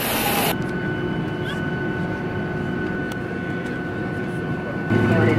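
Steady cabin hum and airflow fill the interior of a Boeing 737-800 airliner during boarding, a low constant drone under occasional voices, with a brief louder burst at the start and end.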